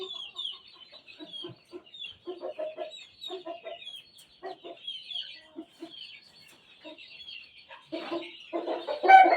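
A Sweater bloodline gamecock rooster clucks in short, repeated bursts close by, with a faint high bird chirping in the background and louder clucking toward the end.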